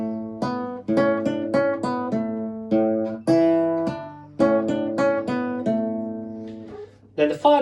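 A classical guitar is played ponticello near the bridge through a repeating pattern from Gaspar Sanz's Paradetas, giving bright, plucked notes and chords in a steady rhythm over a held low bass, close and alone.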